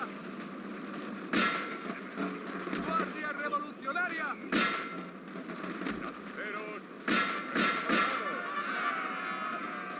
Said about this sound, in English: Now I can shoot at them.